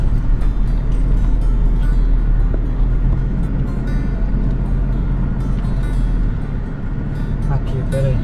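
A car rolling across a dried-out bed of the Madeira River during a severe drought, a loud, constant low rumble of engine and bumpy ground, with people talking over it throughout.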